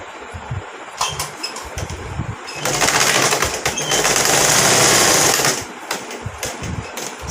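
Sewing machine running steady stitches along the neckline seam of a long frock kurti, a close whirring hum with short bursts at first, then one longer continuous run before it slows and stops and starts again.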